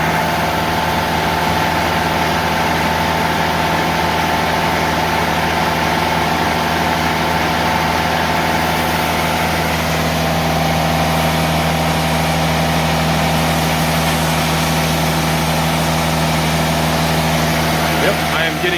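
Engine on a portable sawmill running steadily at a loud, even drone, with a slight shift in pitch as it is revved partway through; no other sounds stand out over the constant hum.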